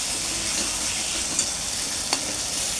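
An onion mixture sautéing in a hot pan, a steady close sizzle with soft stirring scrapes and a couple of brief clicks.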